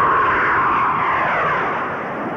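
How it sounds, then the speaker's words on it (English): A Grumman A-6 all-weather attack bomber in a tight turn, a loud continuous jet roar with a broad rushing tone that fades slightly toward the end. "An all-weather attack bomber like the A-6 can handle itself pretty well"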